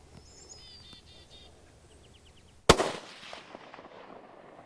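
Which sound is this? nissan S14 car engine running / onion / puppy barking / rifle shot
rifle shot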